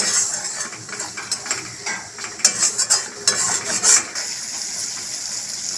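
Spice masala for dal fry stirred in a cooking pan: repeated scraping and clinking strokes of a spoon against metal over a light sizzle, bunched in the middle of the stretch, close and fairly quiet, without talking.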